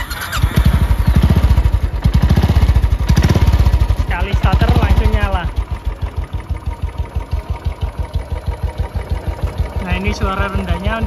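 A 2017 Royal Enfield 500cc motorcycle engine runs close by with a deep, rapid thumping beat, revving loud early then settling into a steady lower idle pulse, with a voice speaking over it.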